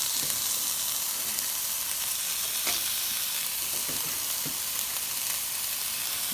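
Bean sprouts frying in a hot pan for egg rolls, a steady loud sizzle with light stirring clatter throughout, close and continuous with no voices.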